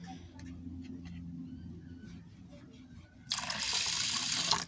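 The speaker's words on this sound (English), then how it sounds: "take your rice, put in a container, and then pour water in" Water is poured into a container of rice for making rice water, a sudden bright rushing splash that begins near the end and continues steadily after a quieter stretch of low background noise.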